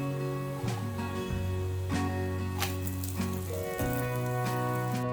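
Nool porotta (string paratha) fries in oil on a hot pan, a faint continuous sizzle heard beneath louder, steady background music.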